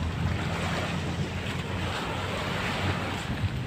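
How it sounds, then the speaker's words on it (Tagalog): Continuous wash of sea waves and surf on Manila Bay at Dolomite Beach, a steady broadband rush with low rumble, no voices, wind faintly mixed in. "Dagat talaga to guys."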